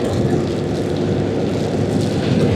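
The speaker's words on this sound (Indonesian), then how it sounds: "Ayo semoga nggak hujan please. Aduh hujan teman-teman." Steady rain pours onto a hot road during a Vario 125 motorcycle tour in Kalimantan, a dense, even hiss mixed with low wind rumble, with no speech.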